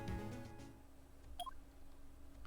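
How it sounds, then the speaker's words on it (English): A short electronic intercom beep from the Phoenix Wright: Ace Attorney video game, a quick pair of rising tones heard faintly and alone, after a low fading hum. "Beep."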